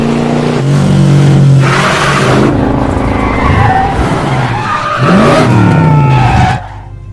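A car test-driven at an airport revs hard and skids with loud tire squeals, the engine roaring up and down close by for several seconds before cutting off.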